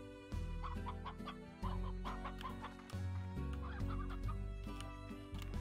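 Continuous chicken clucking and squawking from the game Slime Rancher, repeated choppy calls over low background music, fairly quiet.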